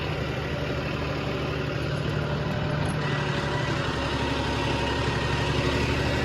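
A John Deere tractor engine idles close by, a steady, low continuous rumbling drone with a constant vibrating throb and no voices.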